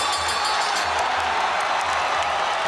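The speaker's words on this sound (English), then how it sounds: "The crowd going bananas in Singapore for him" A large arena crowd at a ONE Championship fight in Singapore cheers and applauds, a dense, loud, continuous roar with scattered whoops and claps.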